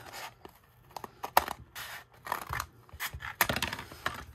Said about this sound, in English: So now I am going to cut off this bottom piece here.